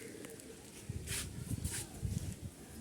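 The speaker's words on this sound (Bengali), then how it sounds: "দেখতে পারতেছেন তিনটা কবুতর গলালালের কবুতর এই যে উঠতেছে দেখেন" Several Golalal pigeons coo in low, rhythmic bursts at close range, with a few soft repeated phrases in the middle and end and brief higher flutters or rustles between them.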